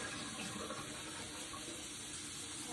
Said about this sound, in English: I'm just gonna let the water run over those.